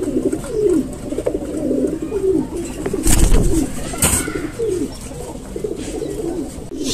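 A pair of Sirajee pigeons coo steadily in repeated soft, throaty phrases close by at a farm, with a few brief bursts of wing or cage noise breaking in.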